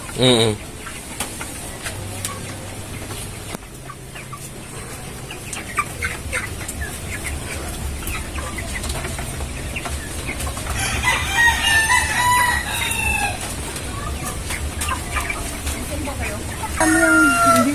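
Broiler chickens cluck and a rooster crows a few times at close range, mixed with people talking over a busy outdoor background.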